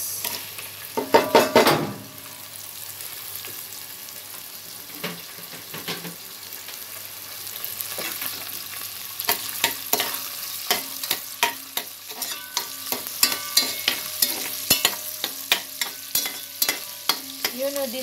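Onions frying in a little oil in a pan, a steady sizzle with a loud burst as they go in, then rhythmic spatula scrapes and clanks against the pan, close and without talk.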